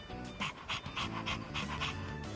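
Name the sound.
dog panting, from the video game Persona 3 Reload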